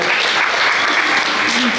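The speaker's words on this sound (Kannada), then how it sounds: "ಎಲ್ಲ ಮಕ್ಕಳು ಒಂದೊಮ್ಮೆ ಅವರಿಗೆ ಜೋರಾದ ಕೈ ಚಪ್ಪಾಳೆ ಕೊಡಿ ನೋಡುವ." Children at a Hindu Sangama gathering in Attavara give loud, sustained applause, a dense continuous clatter of many hands with voices mixed in.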